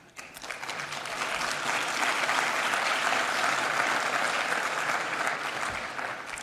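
An audience at an earthquake engineering lecture claps steadily, the applause swelling after a brief start and holding at an even level before easing slightly.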